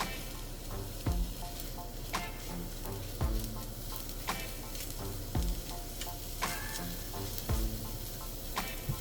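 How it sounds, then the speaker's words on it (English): Sliced mushrooms saute in a little cooking oil in a skillet over medium heat, a steady sizzle running beneath a regular thumping musical beat, with no talking. "Add in the sliced mushrooms and saute for 30 seconds."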